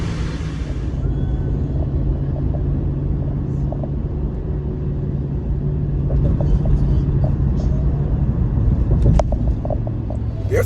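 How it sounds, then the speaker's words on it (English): A car's air conditioning blows at full blast while the car drives, a loud, steady broadband rush over low road rumble, with faint clicks and a brief voice near the end. "so we have the air conditioner on full blast."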